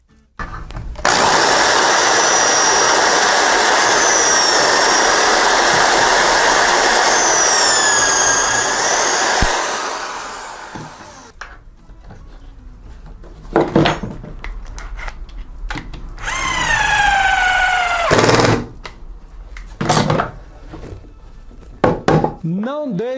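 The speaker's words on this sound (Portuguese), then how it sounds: "Ela dá esses estalos, quem não conhece, porque ela é uma chave de impacto, é normal." Impact driver driving screws into a planned-furniture shelf held square by a jig, a loud sustained motor whine with rapid hammering clicks, then short bursts of whirring and rattling impacts, with someone talking between runs.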